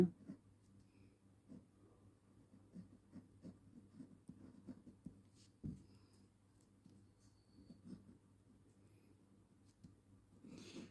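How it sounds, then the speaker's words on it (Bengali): A pen scratches out numbers for a math exercise in soft, quiet strokes, short taps and scrapes coming in irregular bursts close by, with a few faint knocks between them. "তাহলে দেখো, আমরা লিখবো যে"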